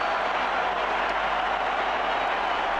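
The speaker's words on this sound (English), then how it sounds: "And this crowd comes to life." Stadium crowd at a Brazil vs Colombia football match, mostly Colombian supporters with some Brazilian fans: a steady, dense roar of cheering and applause filling the whole moment without a break.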